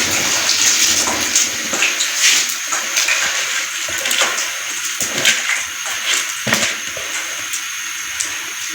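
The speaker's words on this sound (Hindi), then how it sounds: "अब हम इसमें चावल ऐड करेंगे।" Rice for Kabuli pulao is poured into boiling yakhni broth, making a watery, splashing rush with bubbling and irregular sloshing bursts close by. No one speaks.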